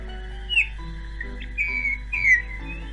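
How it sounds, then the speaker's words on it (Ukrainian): A bullfinch calls in a few short, soft whistled notes with gaps between them, fairly close and alone over a steady low hum. "В зимову казку прилетів снігур"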